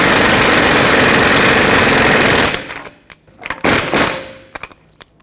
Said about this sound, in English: I'm using an air impact, however, when I tighten it, I'm not going to go all the way with it